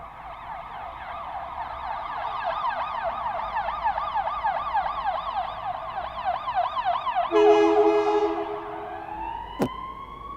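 An ambulance siren wails in rising and falling sweeps as it passes nearby, growing louder and then shifting pitch as it moves away before cutting off.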